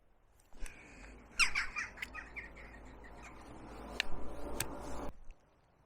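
A gull gives a few sharp squawking calls over steady wind and outdoor background noise by a bay in Anglesey, North Wales, moderately close, in short bursts.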